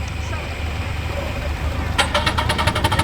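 A hand-built steam engine at the Sussex Steam Rally at Parham runs steadily outdoors, then gives a rapid series of sharp chuffs and clanks near the end, with people talking around it.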